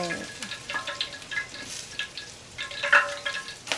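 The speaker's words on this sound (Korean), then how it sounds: "튀겨지는 소리가 빗소리 같아 너무 좋아요." Oil crackling and sizzling around a breaded cheese pork cutlet deep-frying, close up, with bursts of popping and faint talk mixed in.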